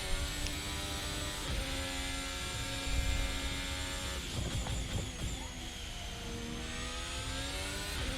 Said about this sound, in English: got on the throttle really early coming out of the last corner